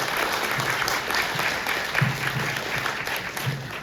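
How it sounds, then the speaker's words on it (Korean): Steady applause from an audience at a local community meeting, a dense even wash of clapping filling the room throughout with a faint voice briefly underneath. "큰 박수 부탁드리겠습니다"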